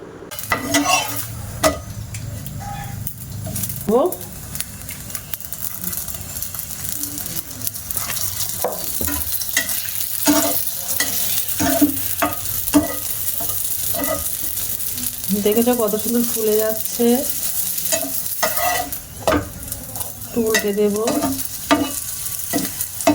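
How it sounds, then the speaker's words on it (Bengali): Semolina and potato parathas dry-roasting without oil in a frying pan on the stove, with frequent clinks and scrapes of utensils against metal over a low, continuous sizzle. "প্রথমে আমি একটু তেল ছাড়া সেঁকে নেবো"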